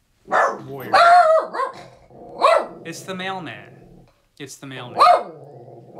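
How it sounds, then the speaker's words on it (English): A dog barks and growls loudly nearby in repeated bursts while a person talks over it. "Excuse my terrible dog."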